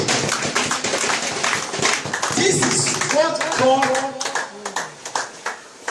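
A church congregation claps hands in a quick, uneven patter while someone speaks loudly over it, the applause fading toward the end.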